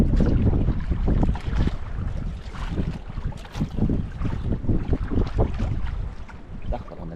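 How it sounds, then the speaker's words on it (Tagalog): Strong wind buffets the microphone in heavy, rumbling gusts near open water by a boat, loud and continuous with surging peaks and no talk. "Parang naglahalakas yung hangin mga idol ah."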